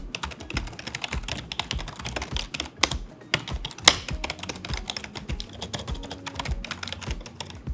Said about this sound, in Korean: 일단 요거는 멤브레인 방식입니다 기계식은 아니고 요거 타건 사운드 한번 들려드리면은